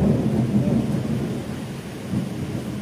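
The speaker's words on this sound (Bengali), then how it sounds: "কারণ এই মেঘ ডাকার পাশাপাশি বজ্রপাত খুব বড় ভয়ঙ্কর" Deep thunder rolls in a steady, heavy rumble during a storm over the Sundarbans, with a faint wash of rain beneath it.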